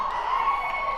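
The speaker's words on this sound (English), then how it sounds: "The crowd is going wild here too" A stadium crowd at a football division championship game cheering after a tackle near the goal line, a brief, sustained roar of many voices at even loudness.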